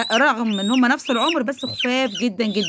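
Hens in a mixed backyard flock of several poultry breeds give short, rising clucks and calls, close and loud, overlapping someone talking.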